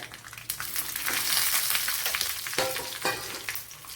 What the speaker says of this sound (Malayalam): ഇവിടെ കടുക് ഇട്ട് കൊടുത്തിട്ടുണ്ട് ഇനി ഒരു രണ്ട് മൂന്ന് വറ്റൽമുളക് കൂടെ ഇട്ട് കൊടുക്കാം